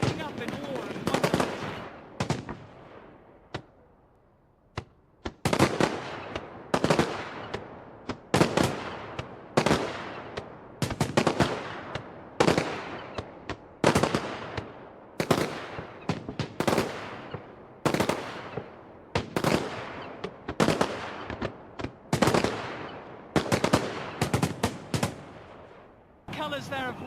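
Fireworks explode over the river in London on New Year, a long barrage of loud, booming blasts and crackling bursts in quick succession, echoing over the city, with no talking.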